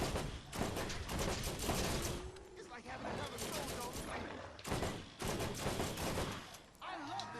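Turret gunfire in the video game Borderlands, dense bursts of rapid shots firing almost continuously, with someone talking over much of the action.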